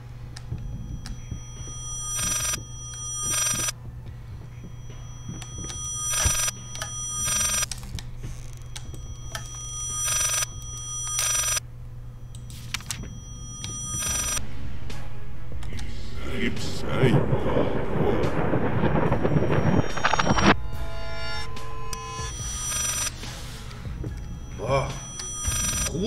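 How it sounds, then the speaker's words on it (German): A telephone rings repeatedly in the horror video game Layers of Fear, short bright bursts in a regular pattern over a low hum, briefly masked by a loud rumbling passage before ringing resumes. "Telefon."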